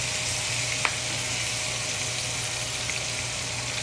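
Oxtail pieces searing in a hot pot, a steady close sizzle and frying hiss that runs throughout with one small clink partway through, no talking.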